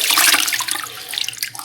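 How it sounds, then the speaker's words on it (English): Running tap water pours over freshly harvested garden lettuce as it is rinsed, a bright, steady splashing that fades slightly toward the end of the brief moment. "and rinse it off individually almost, and then put it in here"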